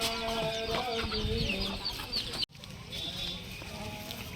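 Chickens clucking close by in a henhouse at night, several birds giving short overlapping clucks and squawks, busier at first, then quieter after a brief dropout, with faint hushed movement.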